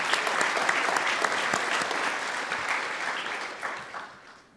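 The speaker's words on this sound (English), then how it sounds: "Please applause for having him." Steady audience applause rings through a medical school honors convocation award ceremony, full and sustained before tapering off near the end.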